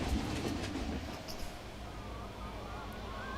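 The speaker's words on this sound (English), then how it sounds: "Train's running." A roller coaster train in Planet Coaster 2 runs along its track with a steady low rumble and faint clattering wheels, continuous at moderate distance with a rising squeal of wheels near the end; no one speaks.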